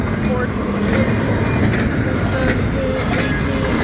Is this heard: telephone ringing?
no